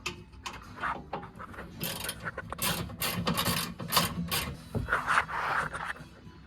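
A ratchet wrench works a bolt on the undercarriage of a Honda Fit, making a series of quick clicking pawl bursts in uneven rhythm, close by and moderately quiet, with no talking.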